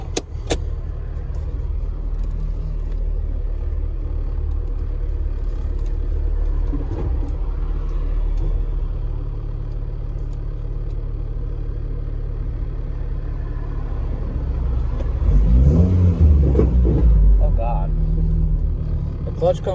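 A manual-transmission car driven after a transmission repair, its low engine rumble and road noise steady inside the cabin, with a brief rise in engine revs near the end.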